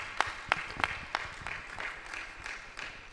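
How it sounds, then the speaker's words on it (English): Audience clapping at a national multi-stakeholder dialogue event, a short, rhythmic series of sharp claps that loosens and fades over a few seconds, with no talking. "Another warm round of applause"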